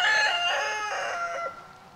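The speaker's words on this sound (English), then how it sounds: "He's a meat bird Rhode Island cross, the rooster." A Rhode Island Red cross meat-bird rooster crows once, loud and close, a drawn-out cock-a-doodle-doo that fades off near the end with no talking.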